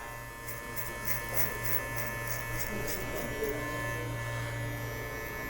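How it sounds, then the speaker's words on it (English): Electric hair clippers buzzing close by while cutting a bald fade, a continuous motor hum with faint shifts as the blade works across the scalp, partly under talk. "letting that clipper do the work"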